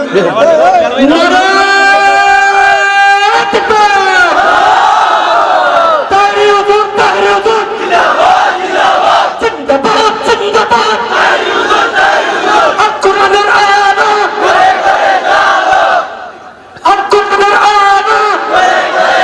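A large crowd chants slogans in loud unison, voices rising and falling together in rhythmic call-and-response waves that carry on almost without pause, with a brief drop near the end.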